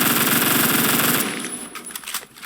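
Rapid automatic fire from an M231 rifle in the video game Phantom Forces, a dense loud burst that runs for about a second before breaking into a few scattered shots and fading.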